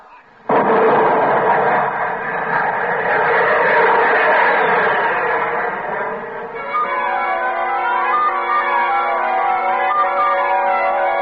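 Weapons fire in an old radio drama: a sudden loud blast opens into a sustained roaring, ringing burst that holds for several seconds, then settles into a wavering electronic hum.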